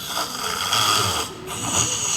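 A voice imitates loud snoring during a Ramadan religious lecture: a raspy, drawn-out snore of about two seconds, close and fairly loud.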